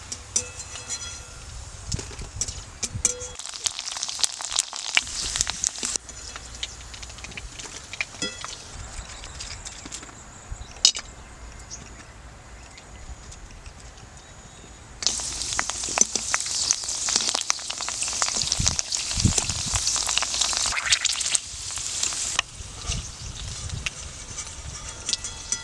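Fuchka puris frying in hot oil, a steady sizzling crackle that swells into a loud, dense hiss of bubbling fat partway through, with clinks of utensils nearby.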